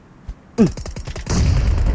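A grenade explodes in the PUBG Mobile battle royale game, a loud booming blast followed by a broad rumbling roar that swells and lingers, preceded by a brief thump and a burst of sharp crackling.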